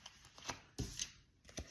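Tarot cards are handled and drawn in a few soft flicks and slides, three quick papery snaps spread over a moment, very faint and close.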